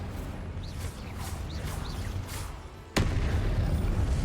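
Confringo, the blasting curse in the Hogwarts Legacy video game, sets off an explosion: one sudden loud boom after a rumbling stretch of combat noise, with a heavy low roar continuing after it.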